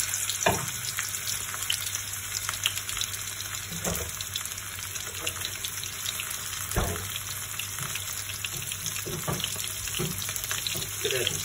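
New potatoes fry in a pan of hot oil, a close, steady sizzle with occasional crackles and soft knocks of movement in the pan.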